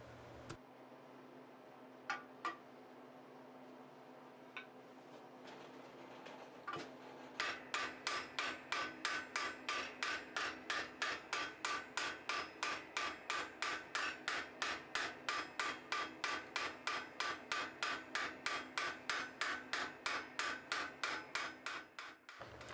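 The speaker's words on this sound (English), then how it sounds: "Here I'm just doing some light hammering to straighten out the sides" Light hammer blows on a steel bar while forging a blacksmith's candle cup, a few scattered taps at first, then a long steady run of evenly spaced, ringing strikes, close and clear.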